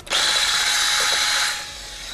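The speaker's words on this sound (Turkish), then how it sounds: "güzelce akları, kar tanesi, kar bezeleri olana dek çırpmamız gerekiyor" A loud electric mixer whips egg whites, whirring steadily at high speed, then eases slightly in pitch near the end, running alone without talk.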